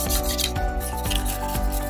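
Close rhythmic scrubbing of the rail surfaces of an HK P30 pistol during cleaning, repeated short brush or rag strokes rubbing against the metal over a low hum.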